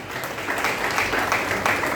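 Audience applause during a Hindu religious discourse on the Bhagavata, a dense steady wash of many hands clapping throughout.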